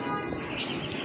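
Pigeons in a loft, including a pair of large Lakkha pigeons with broad, upright tails, give soft, continuous bird calls and faint chirps close by, with no talking.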